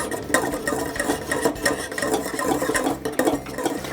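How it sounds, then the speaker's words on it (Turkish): Cocoa pudding thickening in a pot on the stove, vanilla just added, stirred continuously; a steady, busy scraping and swishing of the spoon against the pot runs throughout, close and fairly loud, with no talking. "Ve karıştırmaya devam ediyoruz."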